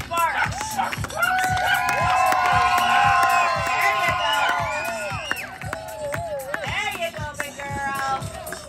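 A crowd cheers and whoops for a frisbee dog at an outdoor show, loud continuous shouting with children's voices and rhythmic thumps of running beneath, while a person speaks over it.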